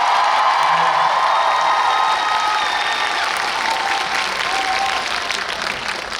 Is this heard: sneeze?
no